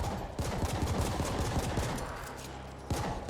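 Rapid automatic gunfire from The Ascent, an action RPG twin-stick shooter, crackles in dense bursts of overlapping shots that ease briefly before a final burst, loud and close with no talking.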